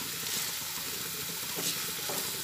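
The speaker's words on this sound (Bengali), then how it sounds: "এরপরে এটা তেলের মধ্যে একটু নাড়াচাড়া করে নেব" Kashmiri chilli powder is stirred in hot oil, giving a continuous hissing sizzle with a couple of soft scraping stirs, close and moderately loud.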